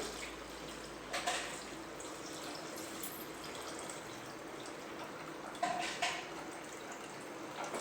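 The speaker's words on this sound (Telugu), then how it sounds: "ఇప్పుడు మనం వాటర్ వేసుకుందాం" Water pours steadily into a cooking pot of soaked rice for pulao, a soft continuous splashing that stays fairly quiet, with a couple of brief louder surges.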